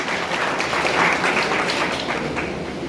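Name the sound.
loud applause from school audience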